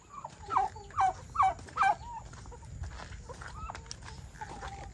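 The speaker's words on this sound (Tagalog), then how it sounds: "Ito yung ating mga alagang pabo." Pet turkeys at feeding time gobble in four quick, loud bursts close by, followed by softer scattered calls and rustling.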